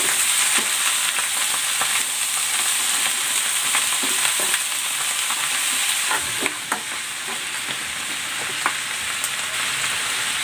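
Frozen mixed vegetables frying in a pan for a vegetable and shrimp stir fry, loud steady hissing sizzle with scattered clicks and scrapes of stirring over about ten seconds.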